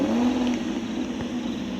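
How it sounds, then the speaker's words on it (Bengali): A car pulls up and revs in the video game Craftworld, a brief, steady engine whir with a sustained tone, close and alone. "এই যে আমার গাড়ি চলে আসছে।"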